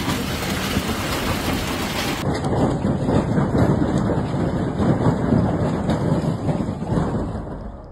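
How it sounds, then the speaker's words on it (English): Heavy hail hammers the roofs of cars trapped on a South African highway, a dense continuous roar of impacts that stays loud and unbroken throughout, with no voices. "In just a few short minutes, huge hailstones pelted the roofs of the cars, creating a terrifying noise."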